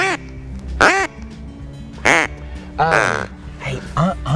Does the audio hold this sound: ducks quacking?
yes